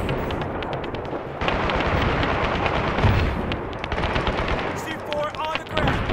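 Combat in Battlefield 3 as C4 takes out a tank, with rapid bursts of machine-gun fire and heavy explosive blasts layered loudly together, close by, while players talk over the din.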